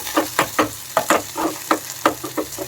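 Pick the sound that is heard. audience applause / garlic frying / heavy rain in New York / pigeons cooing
garlic frying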